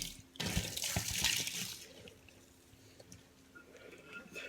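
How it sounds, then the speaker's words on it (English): Sanitizer liquid dumped out of a homebrew fermenter into a sink, a fairly quiet rushing splash for about a second and a half that fades into low sink ambience. "when you're done, you're just going to dump it out in the sink"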